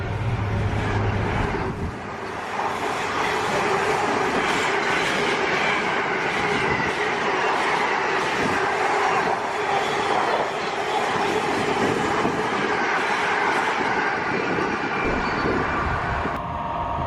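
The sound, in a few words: train passing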